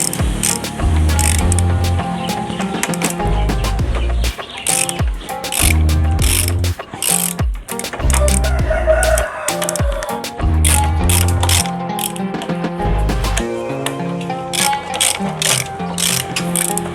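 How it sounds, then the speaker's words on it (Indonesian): A hand ratchet loosens the four bolts on a Supra motorcycle's front shock, giving loud, close, rapid clicking runs broken by short pauses and repositioning clunks, with no talking. "sekarang kita buka aja baut yang 4 ini dulu ya."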